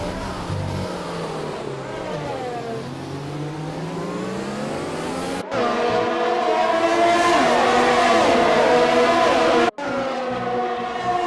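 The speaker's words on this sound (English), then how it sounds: "FH444 getting his American on, his little burnouts, although in a Mercedes" A Mercedes in a racing video game does burnouts, its engine revving hard in rising and falling sweeps, loud and close, with two abrupt cuts in the sound.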